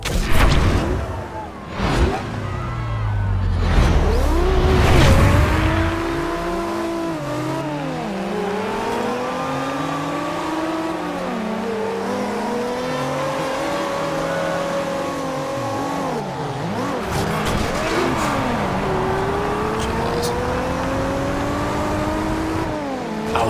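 Race cars in a video game championship race, Japanese sports cars, engines revving and pitching up and down through gear changes, loud and continuous with a heavy rumbling burst at the start.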